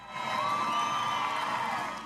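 A crowd cheers and whoops at a mustang freestyle riding competition, a brief swelling roar of many voices that peaks and fades over about two seconds.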